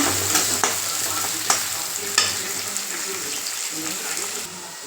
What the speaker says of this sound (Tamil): கூடவே ஒரு கொத்து கருவேப்பிலை போட்டு நல்லா மிக்ஸ் பண்ணுங்கள் வெங்காயம் நல்லா வதங்கிட்டோங்க